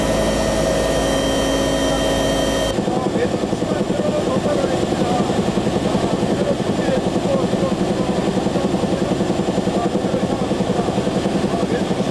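A military helicopter takes off, its rotor and turbine roar loud and continuous, with a steady pulsing beat after a sharp shift in the engine sound near the start.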